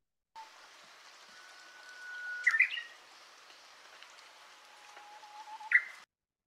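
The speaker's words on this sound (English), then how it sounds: "and then among the non-natives, we have the Japanese bush warbler" A non-native Japanese bush warbler in Hawaii sings twice: a long, thin whistled note ends in a quick rising flourish, and the song repeats later. Both songs are clear against a quiet background with soft rain-like hiss.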